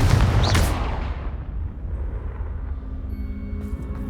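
A loud Confringo fire-blast spell explodes in Hogwarts Legacy on PS5, a big booming burst at the start that rolls off into a long rumbling decay with faint tonal ringing, no voices.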